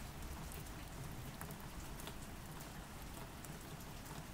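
Heavy rain pours down steadily, a dense, even hiss of countless drops pattering on surfaces, fairly soft and constant with no voices.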